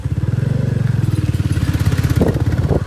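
A motorbike ridden along a rural road in Jhalawad, Gujarat, its engine giving a steady, close, rough pulsing drone with rattling clatter throughout.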